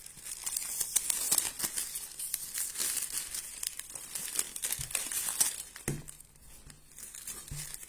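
Crinkly tearing and pressing sounds of adhesive tape being sealed over a toilet bowl while unclogging it, with several sharp rips and soft crackles spread over several seconds, close up and fairly quiet.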